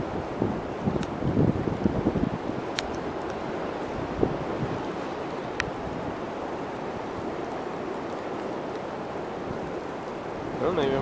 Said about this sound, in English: I can hear another gust coming,